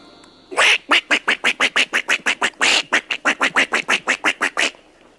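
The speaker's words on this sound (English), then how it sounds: "Oh yeah, it's a little duck." A rapid run of about twenty loud, evenly spaced duck quacks, close and emphatic, following a short high tone at the start.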